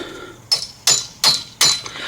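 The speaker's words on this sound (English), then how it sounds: "I'm just taking my hammer and knocking this out like that" A hammer strikes a chisel to drive out a wheel bearing on a Subaru Forester, four sharp metallic knocks at an even pace about every third of a second, close and loud with no talk.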